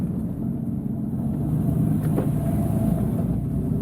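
A car accelerates in second gear after a transmission software update, its engine a low, steady rumble that rises slightly in pitch, heard from inside the cabin.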